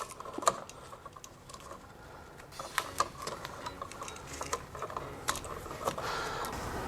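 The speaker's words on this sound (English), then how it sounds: "I'm going to go ahead and remove the electrical tape" Electrical tape being peeled off a household wall outlet, heard up close as a dense run of small crackling ticks and sticky snaps that grows slightly busier toward the end.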